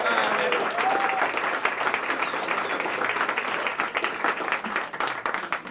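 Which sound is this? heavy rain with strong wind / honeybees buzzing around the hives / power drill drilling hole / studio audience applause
studio audience applause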